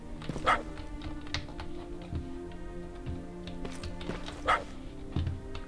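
A dog barks twice, several seconds apart, in the post-apocalyptic video game Terminator Resistance, over light clicking and faint background game sounds.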